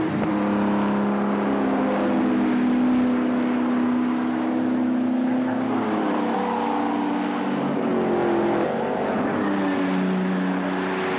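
Racing cars lapping a circuit with the race leader on his final lap, a continuous loud engine drone that rises and falls in pitch as cars pass.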